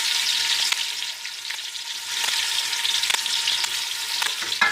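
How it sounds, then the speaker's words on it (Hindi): Continuous crackling sizzle of paste frying in hot oil, with occasional sharper pops and scraping stirs in a pan. "लहसुन अदरक का जो पेस्ट था हम वो इसमें ऐड कर रहे हैं"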